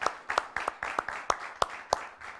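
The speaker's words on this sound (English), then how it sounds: "clap for her" An audience at a talk show claps for a speaker in a short burst of scattered, uneven claps, fairly close and moderately loud.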